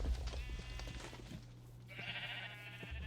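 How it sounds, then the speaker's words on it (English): Sheep bleating inside a Minecraft-style video game, a couple of short nasal bleats over a steady low background hum, fairly faint with no talk. "It's time for me to shear some more sheep."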